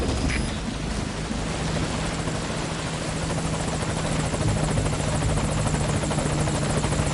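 The helicopter Morpho roars steadily in Metal Gear Solid V: Ground Zeroes as it arrives at the landing zone, a loud, continuous rotor thrum filling the whole stretch.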